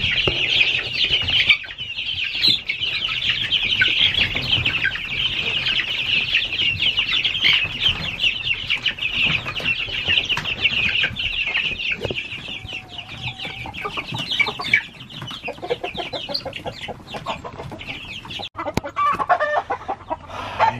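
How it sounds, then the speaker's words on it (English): Agitated farm chickens clucking and squawking steadily for about twenty seconds, loud and close, with occasional wing flapping and no talk. "Pluto, you got the chickens all riled up."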